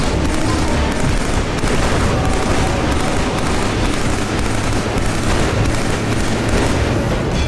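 Dense, continuous gunfire and booming explosions from a Killzone 3 battle with tanks, loud and unbroken from start to finish, with no talking.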